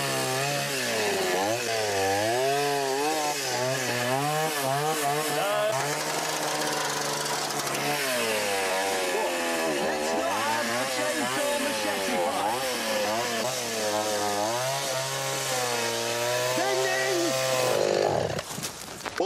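Chainsaw engine running steadily and fairly loud, pitch wavering as it is revved, with people talking over it before it cuts out near the end.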